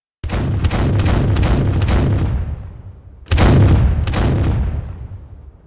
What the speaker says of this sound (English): Are you ready to hear the cannons?